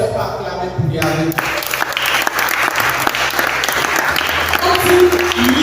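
A church congregation bursts into loud, sustained applause and cheering that carries steadily to the end, with a few voices rising over the clapping.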